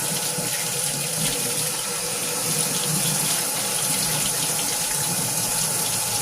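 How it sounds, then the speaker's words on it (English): A kitchen tap runs warm water steadily over apples to wash off their wax coating, a constant close splashing gush with no pauses from start to end. "So I'll start with warm water first, just to get that wax kind of melted off."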